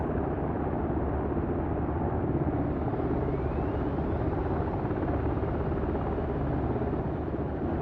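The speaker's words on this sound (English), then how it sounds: "God, that is such a loud helicopter." A helicopter engine in DCS World spins up, a dense, steady roar with a faint rising whine building over several seconds, loud and continuous with no voices.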